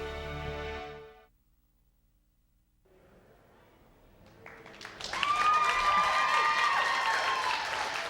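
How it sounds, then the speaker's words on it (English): Crowd applauding and cheering inside a hot tent at the Calgary Stampede grounds during an evening news broadcast, a dense, loud wash of clapping rising after a quiet gap, with a brief tone sounding over it. "We have a great crowd here."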